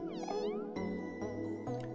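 A cartoonish cat in the video game Omori meows repeatedly, several short bright meows in quick succession over a steady musical background.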